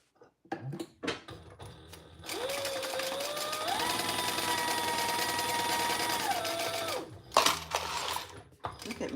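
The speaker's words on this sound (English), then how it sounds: "Look at me go. Oh my gosh, you guys. I'm sewing better than I did yesterday." A sewing machine stitches a triple sling, running in one steady loud motor whir for about five seconds after a few short starts and clicks, then stopping and restarting briefly.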